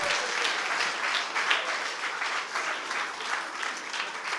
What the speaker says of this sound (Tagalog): Hala, palakpak